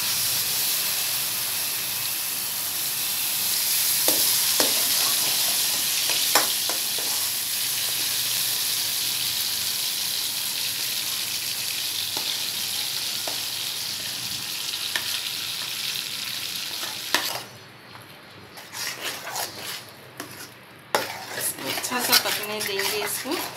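Ground lentils (dal) with cardamom powder fry in pure ghee, a loud steady sizzle with occasional stirring clinks; the sizzle then drops away, leaving scattered clatters of utensils against the pan.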